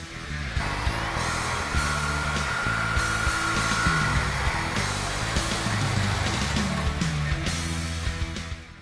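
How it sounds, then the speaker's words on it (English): Sawzall reciprocating saw cutting off the factory extension on a Jeep Wrangler spare tire mount, a loud, close, continuous buzzing rasp with steady strokes lasting throughout. "We're just gonna cut straight right down here with a Sawzall."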